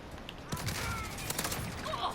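A gun firing in Call of Duty Modern Warfare: a steady, rapid burst of closely packed shots. It is fairly dense and moderately loud, with a dull rumble underneath.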